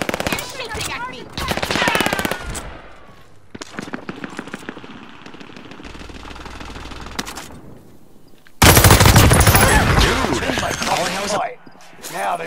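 Bursts of automatic gunfire in the video game Warzone, with rapid rattling volleys, quieter single shots and a loud sustained stretch of firing late on, over game sounds and occasional voices.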